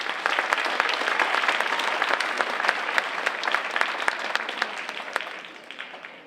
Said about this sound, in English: Please give them a round of applause and thank them for being here.